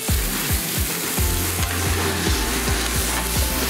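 Sliced onions crackle and sizzle steadily in hot oil in a very hot pan while a spatula scrapes it in a quick, regular rhythm.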